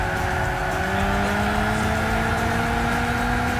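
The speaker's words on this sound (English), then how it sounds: "fucking drifting sounds" Car drifting in Gran Turismo 6, with a loud, continuous engine drone and rising pitch under sustained tire squeal, no talking.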